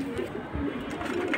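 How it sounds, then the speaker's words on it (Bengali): A large pair of pigeons coos softly at a pigeon seller's place in Mirpur 1, the low, throaty calls repeating close by over a steady background murmur. "সুন্দর বড় সাইজের একটা কবুতরের জোড়া"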